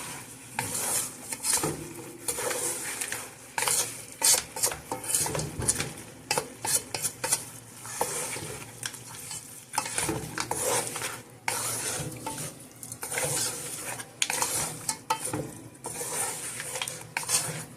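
Lamb chops and kidney with coriander powder, turmeric, Kashmiri chilli and cloves stirred in a pan, a spoon scraping and clanking against metal in quick repeated strokes over a light sizzle, close and fairly loud, no talking.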